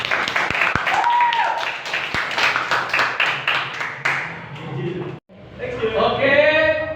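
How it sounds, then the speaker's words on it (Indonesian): Classroom applause for a student presentation group, clapping with chatter over the first five seconds, then a short gap and voices talking. "Kita beri tepuk tangan untuk kelompok 3"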